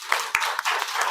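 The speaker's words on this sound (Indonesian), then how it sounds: "tepuk tangan dulu" Students in a classroom break into a short burst of applause, a brief hissy wash of overlapping claps with a few sharper individual hand strikes.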